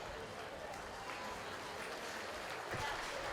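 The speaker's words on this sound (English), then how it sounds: "They give all 9 of those kids a nice round of applause." An audience at a livestock show gives nine young exhibitors a round of applause, a broad steady wash of clapping heard from a distance and low in level, with some crowd noise mixed in.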